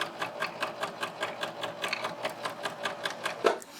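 A sewing machine top stitching a quarter-inch seam on a quilted fabric iPad cover, running in a steady fast rhythmic chatter of needle strokes, close and alone, with a brief thump near the end.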